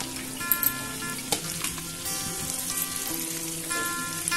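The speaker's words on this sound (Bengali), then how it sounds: "আমি এখন আদা কুচিটা দেবো না, আগে পেঁয়াজটা একটু হালকা ভেজে নেবো" Chopped onions fry gently over a low flame in a pan for village-style dragon pasta, a steady soft sizzle with a few louder crackles and faint tonal music underneath.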